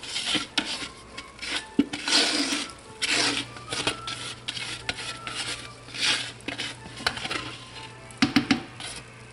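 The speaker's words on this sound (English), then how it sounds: "Use the spatula to make sure I have it all out." A spatula scrapes homemade potash liquid laundry detergent mixture out of a container, giving a run of irregular rasping, rubbing strokes with occasional hard knocks, close and fairly loud with no talking.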